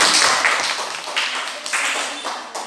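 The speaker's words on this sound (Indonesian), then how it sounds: "Tepuk tangan buat." A classroom group of students claps in short bursts, several quick rounds of applause that fade between bursts.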